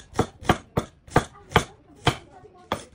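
A knife goes through an onion on a board in seven crisp, evenly spaced chops, loud and close.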